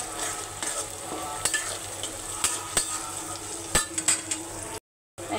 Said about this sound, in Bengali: পেঁয়াজ ভাজা হয়ে গেছে, এখন আমি দারচিনি, এলাচ দিয়ে দিব,